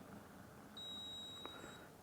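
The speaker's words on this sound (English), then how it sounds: "it beeps" A thin, steady electronic beep from an espresso machine rings for about a second over a low background hum, followed by a brief faint click.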